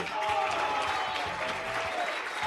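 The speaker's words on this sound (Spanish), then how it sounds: "Miren ahí, sí, son aplausos" Audience applause at an Argentine political event, a steady wash of many hands clapping at moderate distance, continuous and even throughout.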